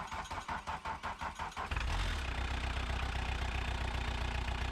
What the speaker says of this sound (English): So we put a battery in it and it started right up.